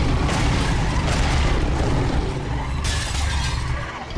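Glass figure shattering in a fantasy video game, a loud dense crash with bursts of bright breaking debris, followed by a second sharp shatter near the end, with no talk.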